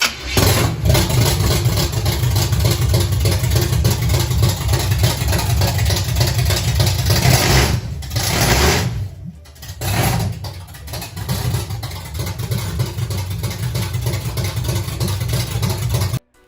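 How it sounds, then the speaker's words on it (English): A 1969 Chevrolet C10 pickup engine with untimed straight headers runs loud and close, idling roughly for about eight seconds, dropping out briefly, then catching again and settling into a steady, rumbling idle. "Now this is kind of the first time I could actually start the car"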